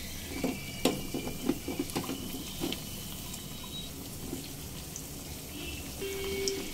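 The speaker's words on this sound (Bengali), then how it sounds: "2 মিনিট ভাজা হয়ে আসার পর আস্তে আস্তে উল্টে দেব" Sago fritters deep-fry in hot oil with a soft, steady bubbling sizzle, punctuated early by a few light taps and clinks, then settling into an even hiss.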